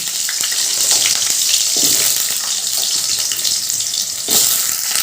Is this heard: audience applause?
no